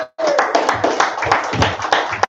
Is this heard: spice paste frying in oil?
no